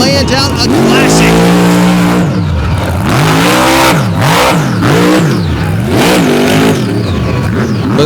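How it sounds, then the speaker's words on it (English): Race car engine at a Fowlerville Throwdown event screams and revs hard with rising and falling pitch sweeps as the transmission fails, very loud and close, with a commentator talking over it. "You can hear him sing the motor"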